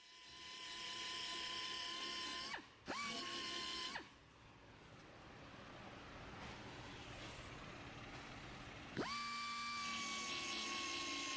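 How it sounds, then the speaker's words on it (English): A power grinder works around the quarter panel of a 2016 Toyota Corolla, whining loudly in two bursts, dropping to a rough, lower grinding hum between them, then spinning up to a steady high whine again. "I'm pretty much just grinding all around and making sure that it's separated from the panel that's going to remain."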